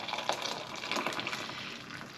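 Freshly boiled kettle water poured over stock cubes in a kitchen: a soft, steady stream of liquid filling a container, quiet and continuous with slight gurgling, no voices.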